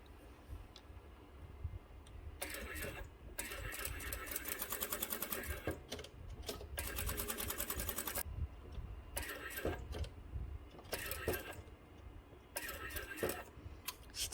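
Sewing machine stitching underpants for a doll's hanbok, several bursts of fast rattling stitches a second or two long separated by pauses, close and fairly quiet, with soft talking in between.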